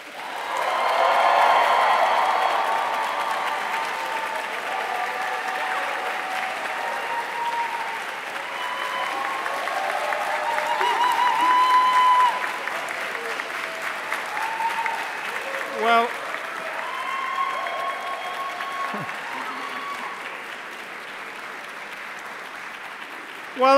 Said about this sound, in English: Will you please applaud them in return?